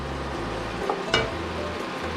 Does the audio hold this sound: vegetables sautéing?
yes